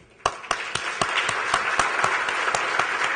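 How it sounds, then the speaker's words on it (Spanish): An audience breaks into a warm round of applause: a few sharp, evenly spaced claps lead off and quickly swell into steady, full clapping that holds at a moderate level. "uma calorosa salva de palmas"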